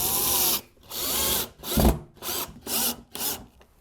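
A power drill drives screws into drywall in a series of short whirring bursts separated by brief pauses, loud and close with no talk.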